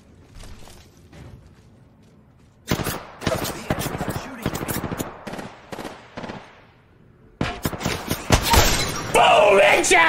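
Rapid automatic gunfire and sharp impact cracks come in dense bursts in the video game Apex Legends, loud and close, with brief gaps and a shattering, whooshing flurry near the end.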